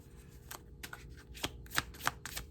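Tarot cards shuffled and pulled from the deck, giving a series of soft riffling and flicking bursts in an uneven rhythm, close and fairly quiet, with no talking.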